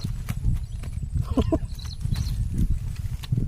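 Horse hooves clip-clopping in an irregular run of soft, near thuds over a steady low rumble, with a faint brief whinny-like call in the middle.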